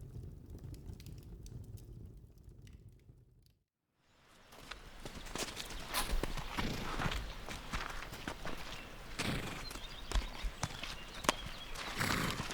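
Horses' hooves clip-clop on the ground in a steady, uneven patter, fading briefly to near silence before returning louder and fuller, with rustling around them.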